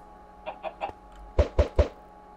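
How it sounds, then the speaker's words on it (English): Baby chicken in the Minecraft video game giving a series of short clucks, three softer ones followed by three louder, sharper ones in an even rhythm, close and clear with no talking. "we got us a baby chicken"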